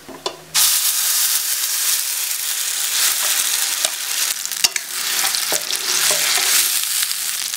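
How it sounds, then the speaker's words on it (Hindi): Green chickpea paste frying in ghee in a kadhai bursts into a loud, steady sizzle right after a brief quiet start, with repeated stirring scrapes and clicks running through it and no talking. "अब मैं इसमें घी चने का पेस्ट डाल रही हूँ।"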